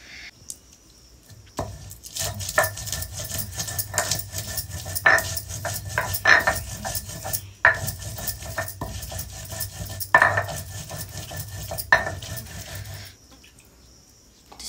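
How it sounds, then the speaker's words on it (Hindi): Masala spices being ground in a home kitchen, a string of sharp knocking and scraping strokes at an uneven rhythm, close and moderately loud, with short pauses between bursts and no talk. "मम्मी देखो मसाला पीस रही ना"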